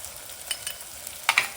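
Tomato and onion fry in a pan with chilli, garlic and coriander-cumin powder for sambar, a soft continuous sizzle broken by a few sharp scrapes and clinks of stirring, the loudest near the end.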